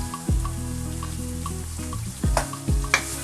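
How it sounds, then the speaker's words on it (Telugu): Turmeric and ginger-garlic paste fry in a home kitchen pan for cutlets, giving a steady soft sizzle throughout with a few louder clatters of stirring near the end. "పసుపు, అల్లం వెల్లుల్లిపాయ పేస్ట్ రెండు కొద్దిగా ఫ్రై చేసుకోవాలి"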